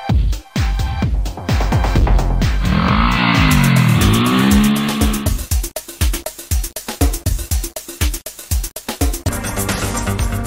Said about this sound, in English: Tubao 157 motorcycle engine has zero vibration, low noise, huge torsional force, long endurance, and high fuel efficiency.